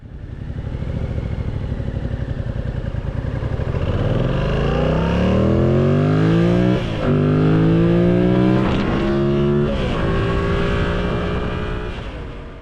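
A motorcycle still in its break-in period rides along the road on a casual Saturday outing, its engine loud and close, revving up through rising pitches with gear shifts and steady wind-laden drone throughout.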